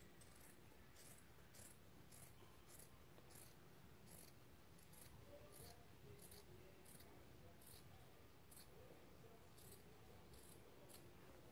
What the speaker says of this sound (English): I think I am actually gonna cut my excess